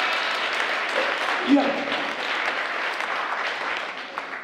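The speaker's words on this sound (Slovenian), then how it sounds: "En aplavz za mojo pomočnico." An audience at a congenital heart defects awareness day event applauds a presenter's assistant, producing steady, dense clapping that fills the whole stretch with a brief voice near the middle.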